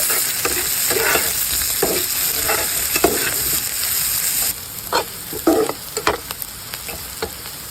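Chopped onion, chili and garlic frying in hot oil, with a steady close sizzle broken by repeated scraping stirs that grow louder and more clattering in the second half.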